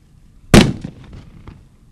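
A firework explodes in a fireworks safety demonstration staged for a county press conference, one sharp loud bang followed by a short crackling tail and a few faint pops.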